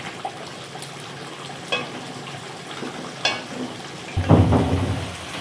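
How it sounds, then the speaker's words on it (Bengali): Bengali prawn malaikari curry bubbling in a pan, a steady simmering hiss with occasional soft pops, then a louder burst of bubbling near the end, close and without talk. "দেখো কত সুন্দর ফোট উঠে গেছে"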